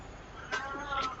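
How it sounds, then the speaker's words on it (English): A pet cat meows indoors, two short, fairly faint meows about half a second apart over a quiet room background. "Oh, that's my cat."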